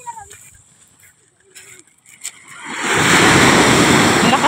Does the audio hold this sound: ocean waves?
yes